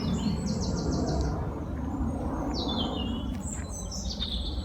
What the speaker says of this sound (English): And you can hear all these lovely birds that are singing.